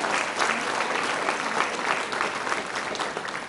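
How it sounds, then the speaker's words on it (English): An audience at a Brooklyn high school commencement applauds, a dense, sustained wash of clapping from a large crowd filling the hall at steady volume. "That's an applause line. You're supposed to clap for that."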